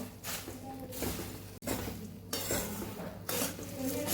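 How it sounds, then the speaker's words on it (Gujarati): Puffed rice stirred in a pan over low gas, dry rustling and scraping with light metallic clinks of the spoon against the pan, continuous and close, no speech. "સરસ આપણે ધીમા ગેસ ઉપર મિક્સ કરી લેવાનું છે"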